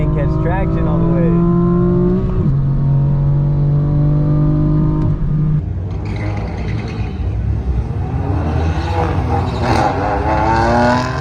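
A manual BMW M4 launches hard at Famoso Drag Strip, its engine revving loudly and rising through gears with a harsh, close rumble and a brief shift break, tyres struggling for traction.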